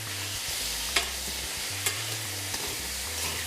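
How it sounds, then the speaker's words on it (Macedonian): Turkey meat sizzles in a frying pan while being stirred, a steady fry hiss broken by a few sharp scrapes of the utensil, close and alone without voices. "Мешаме мисирката."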